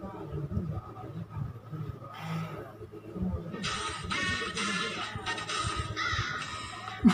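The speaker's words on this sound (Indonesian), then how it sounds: "Ada burung gagaknya di akhir-akhirnya" A crow caws in a rapid, harsh series in the second half, loud and raspy, over a background of people talking.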